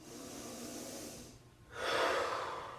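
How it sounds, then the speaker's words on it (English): During a Pilates stretch over a cylinder, a person takes a deep, audible breath, a long airy exhale followed by a brief pause and then a stronger, close inhale. "Nice deep breaths."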